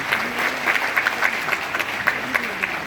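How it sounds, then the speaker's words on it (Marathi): An audience claps during a speech at a World Environment Day event, a dense, continuous round of applause with close, uneven hand claps and some crowd murmur. "तुम्ही माझ्यासाठी टाळ्या मागितले नाही तरी टाळ्या मारण्या एवढ्या मागण्या मी मान्य केल्या."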